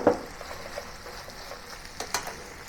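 Diced shiitake mushrooms fry in a pork meat sauce for rou zao fan, a gentle close sizzle broken by a few sharp utensil taps and stirring scrapes.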